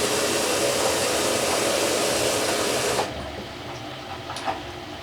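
Tap water runs steadily into a film developing tank with a broad hissing rush that cuts off abruptly partway through, leaving faint drips and handling noises.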